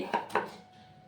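A knife cutting potatoes lengthwise on a board, two crisp close chops in quick succession with a short fading ring after.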